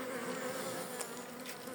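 Dense, steady buzzing of many honeybees close up at a hive, a continuous droning hum with no voices.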